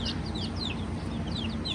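Easter Egger and Barred Rock hens cluck and chirp close by, short high calls repeating through a steady farmyard hum.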